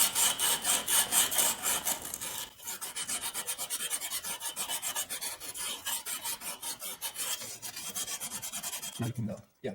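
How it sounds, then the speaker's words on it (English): Emery cloth pulled back and forth with both hands around the shaft of a Briggs & Stratton starter clutch, cleaning off rust: a steady rasping scrub in quick close strokes, pausing briefly partway through. "I'm going to get some emery cloth. Yeah, now hold both, you got to use two hands, both ends, and pull and go back and forth with it."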